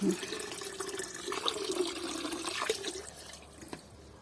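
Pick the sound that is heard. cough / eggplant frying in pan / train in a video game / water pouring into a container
water pouring into a container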